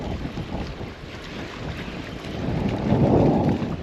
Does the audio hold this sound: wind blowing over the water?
yes